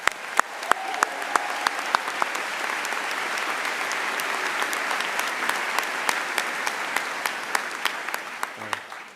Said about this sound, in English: so can we get a quick round of applause?